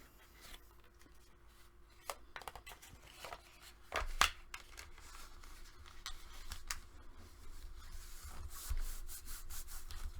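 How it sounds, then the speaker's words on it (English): Paper being burnished down by hand on a handmade mini album, giving soft close rubbing and scraping strokes with a few sharper taps, fairly quiet with no talking. "We want to burnish it so that it sticks."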